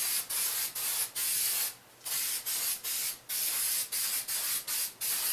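Spray adhesive hisses steadily from an aerosol can held close to poster board, in repeated bursts broken by short pauses and one longer gap, loud and near with no talking.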